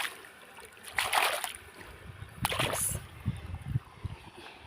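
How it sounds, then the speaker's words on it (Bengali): Hands are rinsed in the shallow water of a rice paddy field: a couple of brief splashes and sloshes, close by and fairly quiet, with soft dribbling between them. "হাতটা ধুয়ে নিই ধান ক্ষেতের মধ্যে।"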